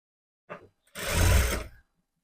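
A sewing machine stitches saree blouse fabric, giving a brief stitch burst followed by a longer, close, whirring run of stitching under a second, then silence.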